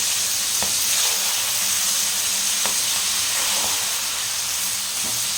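Green chillies frying in hot oil for a chilli pickle, a steady loud sizzle and hiss with a few faint clinks, close and continuous.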